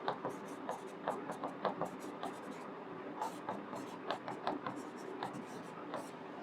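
Pen scratching on paper in short, quick strokes during a maths lesson on numbers, steady and close, with faint talk and room hum in the background.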